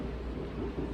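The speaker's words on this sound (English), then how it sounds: "So I apologize if the thunder gets in the way of this video." Thunder rumbles in a low, steady roll during a stormy night in Georgia, dense and continuous with no voices over it.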